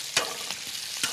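Potatoes sizzle and hiss steadily in a hot pan, with a couple of soft scraping stirs, close up.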